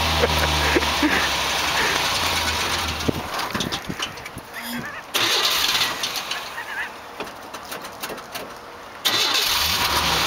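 A 1985 Chevrolet S-10 pickup with about 71,000 miles cranks and catches in a cold start, then settles into a steady mid-pitched idle. It runs close and loud, with brief drops and surges in engine noise as it continues.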